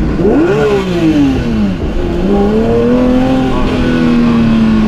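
Porsche 992 GT3 flat-six engine revving toward 9000 RPM, a loud, close howl that climbs, dips, then rises again and holds at a high pitch, with no talk over it.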